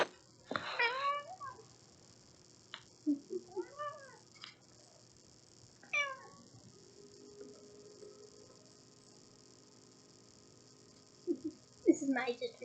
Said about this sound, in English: This is my ginger kitty, and he's our makeshift Crookshanks.